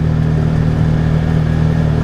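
A Massimo MSU 850 Crew side-by-side cruises at low speed in low range, its V-twin engine giving a smooth, steady, loud drone with no speech over it.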